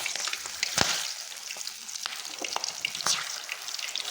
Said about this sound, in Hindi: पहले तो हम फ्राई करते हैं इसमें मिर्ची जो हम भटूरों के साथ खाते हैं